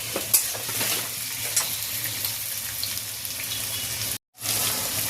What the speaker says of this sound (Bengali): তো পেঁয়াজটা আমি এবার ব্রাউন কালারে ভেজে নেব।